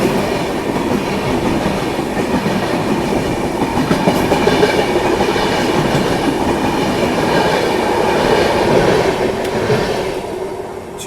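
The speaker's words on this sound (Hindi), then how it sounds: "नई दिल्ली रानी कमलापति शताब्दी एक्सप्रेस। एरोडायनेमिक तेजस वाला WP5 लगा था इसमें।" The Rani Kamlapati Shatabdi Express, hauled by an aerodynamic Tejas-style WP5 locomotive, rushes past at a station with loud, continuous rumbling and clickety-clack of wheels on rails, close and sustained throughout.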